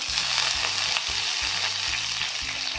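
Mustard seeds, cumin and curry leaves sizzle in hot oil, a steady close crackling fry that keeps up without a break throughout, with a faint rhythmic clatter underneath and no voices.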